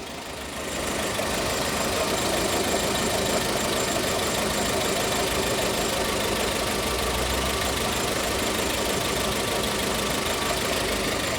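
Steady, even drone of a VW Fox 1.5 naturally aspirated petrol engine heard from inside the cabin, a constant mid-level hum with faint rumble, no voices, holding unchanged throughout.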